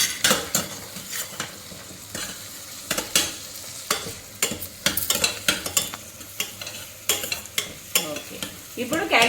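A spoon stirs fresh fenugreek leaves into a sizzling evening snack mixture (sarva pindi) in a pan, making repeated scraping strokes over a continuous frying hiss, close and fairly loud.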